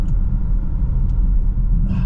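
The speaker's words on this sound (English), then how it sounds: "As I tip the throttle, I can hear the turbo spool." 2021 BMW X7 xDrive40i on the road as the throttle is tipped, a steady low rumble of engine and road noise with a faint rising turbo whoosh near the end, heard from inside the cabin.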